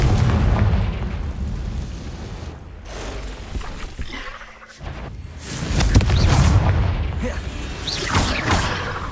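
Loud booming blasts of the Confringo fire spell in the Hogwarts Legacy video game, with heavy low rumbles that swell, fade briefly and return, plus crackling bursts and game effects.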